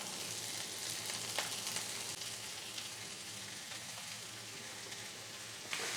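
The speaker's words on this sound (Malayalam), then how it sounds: "വെളിച്ചെണ്ണ ചൂടാകുമ്പോൾ 1/2 ടീസ്പൂൺ കടുക് ഇട്ട് കൊടുക്കാം." Mustard seeds and a dried red chilli cut in three sizzle in hot coconut oil in a pan, a steady soft close hiss with a few faint pops and no talking.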